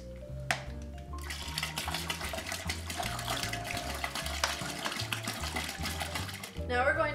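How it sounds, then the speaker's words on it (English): Ice cold water poured into hot wort to cool it while brewing an IPA, a continuous close rushing, splashing fill that runs steadily for several seconds over background music. "Next we're going to cool the wort by adding ice cold water."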